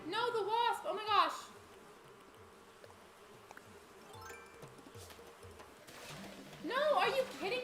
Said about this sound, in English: No, the wasp!